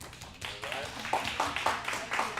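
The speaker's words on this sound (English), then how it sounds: "Give yourselves a round of applause for a really good time." A small open mic crowd claps in scattered, uneven bursts, fairly near and moderately loud. Some of the claps ring out sharply above a low background rumble.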